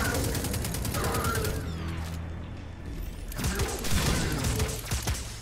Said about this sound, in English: this gun is fucking awesome